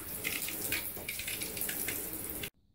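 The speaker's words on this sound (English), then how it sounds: "And rinse off the whole bath." Running water pours steadily into a bathtub as it is rinsed clean, a continuous close splashing wash that cuts off abruptly near the end.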